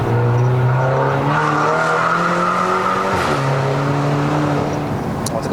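A BMW 320i F30 LCI with a B48 engine and 8HP50 gearbox accelerates hard on a mountain road. The engine drone climbs steadily and loudly, with a brief dip at a gear change, heard from inside the cabin.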